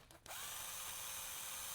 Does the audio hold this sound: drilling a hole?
yes